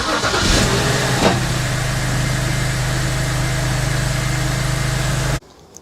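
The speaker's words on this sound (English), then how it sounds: "we're going to start the car and see if there are any engine misfires" A BMW N52 inline-six engine turns over and catches after a spark plug and coil replacement, then settles into a steady, loud idle with a low rumbling hum before cutting off abruptly near the end.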